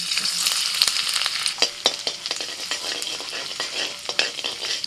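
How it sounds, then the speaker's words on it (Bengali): Chopped ginger frying in a little white oil in a wok, a close, bright sizzle punctuated by scraping stirs and spatula taps. "কড়াইতে অল্প একটু সাদা তেল দিয়ে ওর মধ্যে প্রথমে দিয়ে দিচ্ছি আদা কুচি।"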